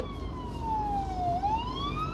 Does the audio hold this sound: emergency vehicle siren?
yes